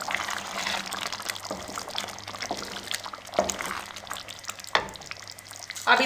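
Chicken curry with chickpeas being mixed in a pan after coriander powder goes in: repeated close spoon scrapes and stirring strokes over a soft, ongoing sizzle.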